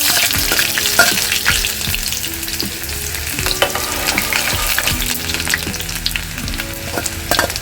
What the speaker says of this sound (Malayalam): കടുക് പൊട്ടി വരുമ്പോൾ നമ്മൾ അതിനകത്തോട്ട് ഉള്ളി അരിഞ്ഞെടുത്ത് കൊടുക്കാം.